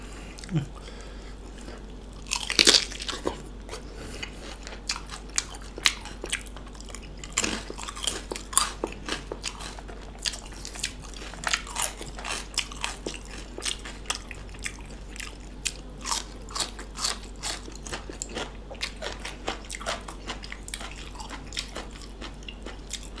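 Crispy Thai pork belly being bitten and chewed close up, with a steady series of sharp crunches and wet chewing sounds over a quiet background, with a brief louder burst near the start.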